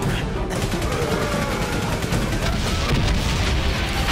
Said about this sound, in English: Holy crap, machine gun!